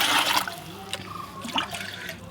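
Water is poured into a guppy fish tank during a water change, a close splashing gush that tapers into uneven trickles and drips.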